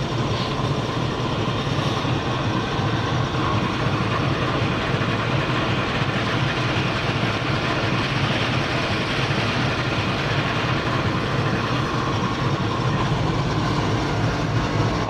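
The GEU40 9006 diesel locomotive idles with a goods train at Sanawan, a steady, continuous low rumble with a broad mechanical hum, unbroken and fairly loud, with no voices.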